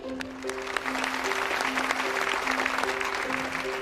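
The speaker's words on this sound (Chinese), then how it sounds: "让我们掌声有请" A crowd at a competition's opening ceremony claps steadily and loudly as a speaker is welcomed on stage, with a sustained musical tone running underneath the applause.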